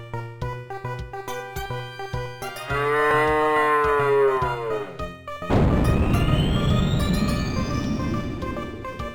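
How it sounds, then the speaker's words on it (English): A cow moos in the 1995 Psygnosis PC adventure game Guilty, a long, loud, drawn-out bellow rising over a rhythmic game music loop, followed by a burst of crashing noise and a falling electronic sweep. "Did that cow moo on me?"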